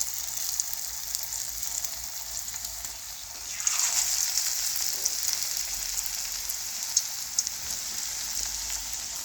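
Oil sizzles softly, then flares into a louder, crackling fry a few seconds in as more onion fritter batter is dropped into the pan, and it keeps bubbling.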